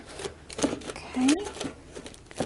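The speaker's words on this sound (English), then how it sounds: "I'm actually going to use some scissors to trim off the excess here." Scissors trim excess aluminum foil from a sculpture form, giving a few short, crisp snips and crinkles at close range under a talking voice.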